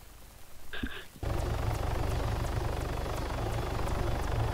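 Helicopter in the video game Arma 3 Altis Life starts up after a brief tone, then a steady, loud rotor thump and engine drone carry on continuously.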